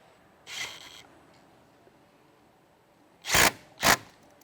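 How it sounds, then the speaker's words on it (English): Hose clamps on an intercooler pump hose are tightened during a supercharger kit install on a 2024+ Mustang GT: one short mechanical burst, then after a pause two quick, loud bursts close together, with no talking. "And once that's in place, you can tighten your hose clamps."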